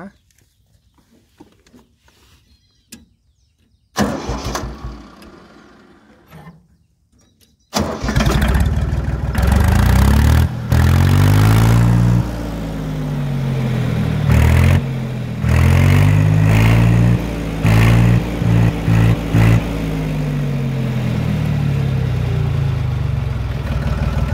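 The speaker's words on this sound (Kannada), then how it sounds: "ಈ ಟ್ರ್ಯಾಕ್ಟ್ರ ಸೌಂಡ್ನ ಒಂದು ಸಲ ಕೇಳೋಣ" A 2021 Force mini tractor's diesel engine cranks with short bursts, then fires and settles into a loud, steady, throbbing idle, close by, with brief revving swells.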